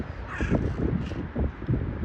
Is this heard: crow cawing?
yes